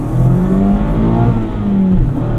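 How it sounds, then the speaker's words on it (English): A 2024 Mazda MX-5 Miata Club's engine pulls under acceleration, a steady close-up drone from inside the cabin with a slight rise and dip in pitch, no talk over it. "There's a bit more engine noise going on here"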